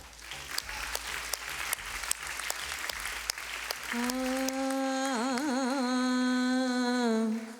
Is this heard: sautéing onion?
no